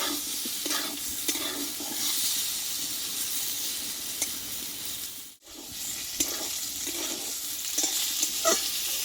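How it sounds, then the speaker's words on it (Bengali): Pointed gourd (potol) sautéing in a little oil in a pan, a steady close sizzle with scraping stir strokes throughout, dipping briefly to near silence midway before the frying hiss resumes. "দেখো বন্ধুরা খুব অল্প তেলে কিন্তু পটলটাই ভালোভাবে কষিয়ে নেবো"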